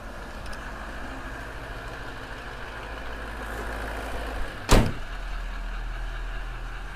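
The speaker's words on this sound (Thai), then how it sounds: "ขออนุญาตปิดฝากระโปรงก่อนจะได้มองเห็นด้านหน้าด้วยนะครับ" Bonnet of a 2010 Toyota Land Cruiser VX 200 diesel slammed shut once, a single loud thud standing out over a steady background hum.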